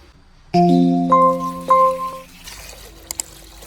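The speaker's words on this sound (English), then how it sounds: "Then add water" Water poured into a pot of cut dragon fruit peels, a close, loud stream with ringing tonal notes from the vessel, then a few light clinks after it stops.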